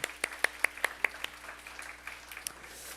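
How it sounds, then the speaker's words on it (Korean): A few sharp, separate claps at a youth church service, spaced about a fifth of a second apart, then quickly fading into sparse, quiet taps. "오늘 박수 한번 할까요?"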